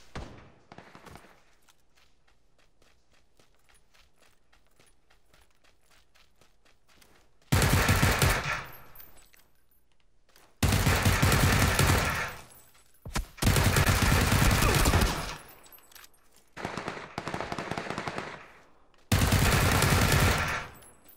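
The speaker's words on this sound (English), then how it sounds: "There's someone else shooting at me." Automatic gunfire in the battle royale game PUBG on a new map, several loud sustained bursts of rapid shots separated by short quieter gaps, following a stretch of faint background noise.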